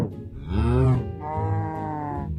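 Cows in Minecraft give two drawn-out, loud moos close up, the first rising and falling, the second longer and steadier, with no other sounds.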